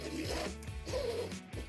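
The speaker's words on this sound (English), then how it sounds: "So then the zippers are on, zips up and seals." The zipper on a DIY safari vehicle soft top is pulled along in quick rasping strokes, close by, with brief pauses between pulls.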